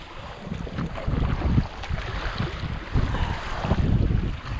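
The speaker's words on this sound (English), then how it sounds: "the wind is fair howling in" Strong wind buffets and roars over a fishing kayak at sea in rough conditions, a dense, gusty rush with waves and water sloshing close by and no speech.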